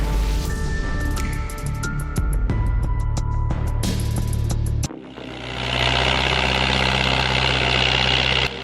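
A diesel tractor, a Rockabilly 65, runs with a deep, steady engine drone and some metallic clatter, then shifts partway through to a rougher, louder rumble with a hissing, broadband edge.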